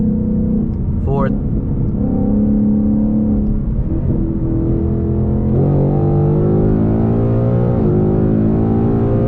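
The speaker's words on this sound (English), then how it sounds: "So we're just gonna drop it down to fifth, let the car react." 2022 5.0 V8 with a 10-speed automatic accelerating hard after a downshift, a loud steady engine roar rising in pitch through gear changes, with a driver talking over it.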